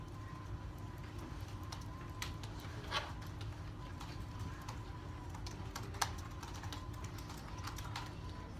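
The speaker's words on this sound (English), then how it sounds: "just typing." Quiet typing on a computer keyboard in a silent classroom writing session, a steady scatter of soft clicking keystrokes with occasional louder taps over low room hum, no talking.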